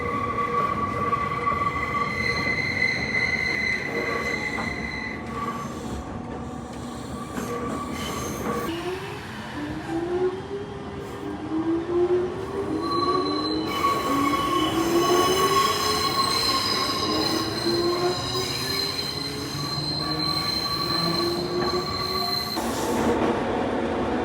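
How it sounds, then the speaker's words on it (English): A train heading to Koyasan in Wakayama rumbles along and its wheels squeal in long, high sustained screeches that rise and fall through curves, loud and close with steady rail rumble underneath and no talking. "We are taking this train to Koyasan"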